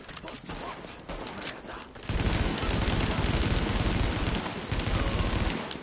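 Gunfire in the video game The Division, a dense, sustained burst of rapid automatic shots that starts abruptly and keeps rattling loudly, with quieter muffled activity before it.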